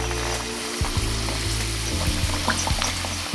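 Battered hake fillets drop into hot oil and fry with a loud, continuous crackling sizzle, broken by a few low bumps and pops as pieces land, and nobody speaks.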